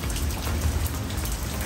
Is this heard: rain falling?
yes